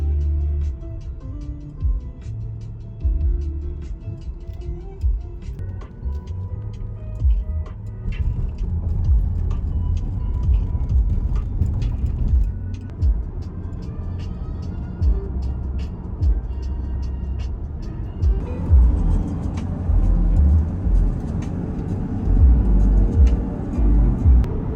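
A car drives through the Cascade Mountains with a steady, loud low road and engine rumble heard from inside, the note rising slightly near the end.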